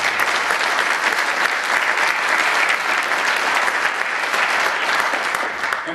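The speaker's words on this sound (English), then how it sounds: "So please give them a round of applause." A concert audience at a military band performance claps in a dense, steady round of applause that holds at full strength throughout, close and loud with no voices above it.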